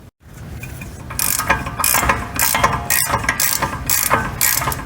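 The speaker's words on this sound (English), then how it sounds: "now we can go ahead and remove this caliper bracket. There are two 15 millimeter bolts" A hand ratchet works loose the two 15 mm rear brake caliper bracket bolts on a 2014 Chevy Cruze Diesel, rapid clicking pawl strokes in loud close bursts with brief pauses, no talk.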